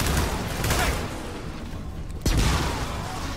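Gunfire in the Gears of War 4 video game, a dense rattling stream of shots with a sharp loud burst partway through, mixed with noisy background effects.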